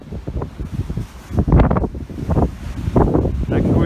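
Wind gusting on a mountain top at Bugarach, buffeting the microphone in uneven rushes that swell and fade, loud and close.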